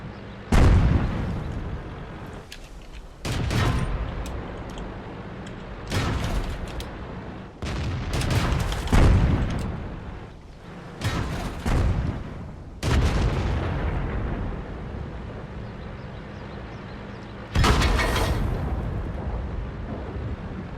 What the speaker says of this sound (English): Stuff blowing up everywhere.